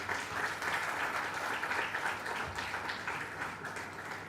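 Steady audience applause fills an academic summer school event in computational linguistics, a dense, continuous patter of many hands clapping at moderate distance for several seconds with no speech.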